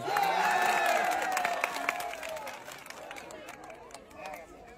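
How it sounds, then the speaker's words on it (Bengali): A lively crowd at an outdoor team game event cheers and claps for a prize winner, a dense burst of applause and shouts that starts loud and gradually thins out, with a voice calling over the noise. "আমার এই কাকার জন্য সবাই একটা জোরে তালি হবে।"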